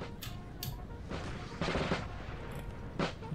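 Distant artillery fire in a Napoleon: Total War battle, a few muffled booms and broadband bursts spread across a busy battlefield bed of soft crackling musketry and noise.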